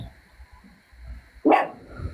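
A single sharp dog bark rings out indoors after a near-silent pause, loud and close, with faint low rumble before and after.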